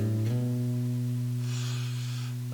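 A sustained guitar tone rings, then a note slides upward along the string and settles, with a faint breathy hiss toward the end.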